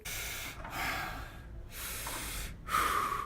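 Deep, loud breaths drawn and released in three long, airy surges separated by short pauses, heard alone without speech.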